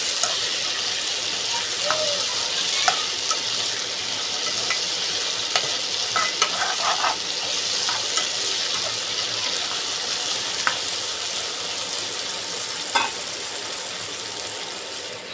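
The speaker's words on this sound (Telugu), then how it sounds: "బంగాళాదుంపల ముక్కలు వేసిన తర్వాత ఆ ముక్కలన్నిటికి మసాలా పట్టేంత వరకు బాగా కలుపుకుందామండి" Potato pieces tossed with masala in a frying pan for aloo masala curry, a loud continuous sizzle with spoon scrapes and clicks throughout, close up and without speech.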